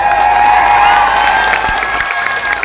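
Applause and cheering from a crowd at a political campaign rally for a municipal election, a dense sustained clatter of clapping with some shouting, loud and close, with no one speaking over it.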